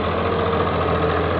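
A Pakistani tractor engine runs at a steady, loud, close idle with a continuous low rumble and knocking throb, with no voices.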